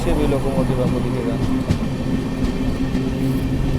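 A push-pull express train rolls past on the tracks, with a loud, close rumble and a continuous grinding run of wheels over rail from start to finish.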